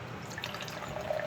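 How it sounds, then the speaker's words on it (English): Baja Blast Energy drink poured from a freshly opened can into a glass, a soft continuous liquid splash and trickle heard close up for about a second, alone without talk. "Now I gotta pour this in a glass."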